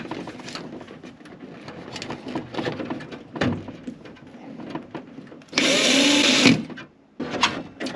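Power drill boring into wood in a workshop, several short bursts of work and handling noise, then one sustained loud whirring run near the end, with no speech.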